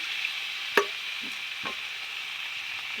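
Water poured into masala sautéing in a pan for a potol and potato curry makes a soft, steady sizzle. A sharp clink of a bowl against the pan comes early, then faint scrapes follow, with no talking.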